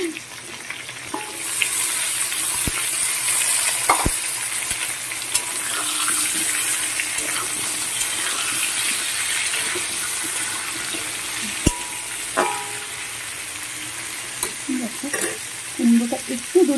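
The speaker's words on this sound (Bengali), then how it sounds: "2 থেকে 3 মিনিট আমি কুমড়োটাকে একটু নাড়াচাড়া করে নিলাম, একটু যা সাঁতলে নিলাম" Pumpkin pieces are stirred and sautéed in a hot pan, giving a steady frying sizzle with spatula scrapes and knocks, some sharp clinks near the end, and faint running-water-like hiss underneath.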